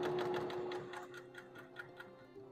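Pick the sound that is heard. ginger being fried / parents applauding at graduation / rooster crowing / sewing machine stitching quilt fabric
sewing machine stitching quilt fabric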